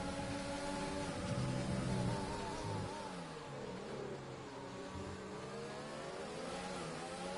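A Ferrari race car engine in a sim racing esports event, a continuous revving roar of a car at speed with shifting pitch, fairly quiet and distant.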